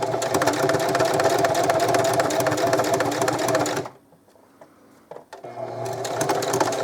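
Sewing machine running a straight stitch on a zipper bracelet, a steady rapid mechanical whir close by for several seconds, stopping briefly with a few small clicks before starting up again.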